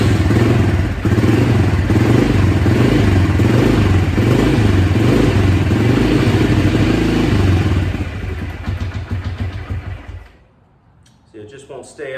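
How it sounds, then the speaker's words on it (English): A 2006 Arctic Cat DVX 250 ATV engine with its idle set too low runs loud and rough under throttle for about eight seconds, then sputters and dies, leaving near silence before brief faint sounds return. "It does start, but I have to hit the throttle a little bit to keep it running."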